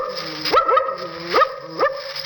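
A voice imitates a dog with a few short, wary barks and yips, spaced unevenly and close up.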